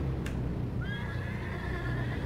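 A horse in the Lego Worlds video game whinnies once, a clear rising then wavering neigh heard alone over a low steady game background, with a faint click near the start.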